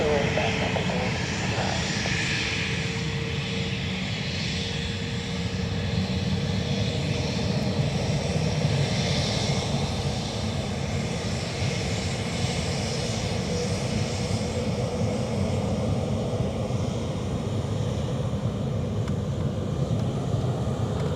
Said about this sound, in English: Ryanair to Alicante, rolling.